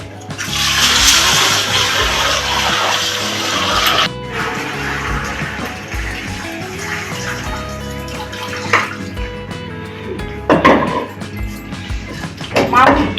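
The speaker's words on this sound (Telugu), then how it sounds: "1 కేజీ ఈ బాగా కడగాలి, 3-4 సార్లు కడిగేసుకోవాలి" Water splashes and sloshes as something is rinsed in a basin, loud at first then softer, with a few sharper clatters and splashes near the end.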